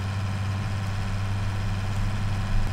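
A low-horsepower tractor engine in a farming video game runs at a steady idle, a continuous low drone with even vibration throughout.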